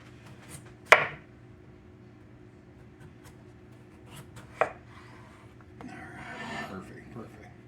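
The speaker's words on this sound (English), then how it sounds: "the whole potato and slice it in like three long pieces" A knife cuts through a whole potato on a board, making long slices for baked country fries. Two sharp, close chops stand out against quiet background noise, and there is faint rustling of handling between and after them.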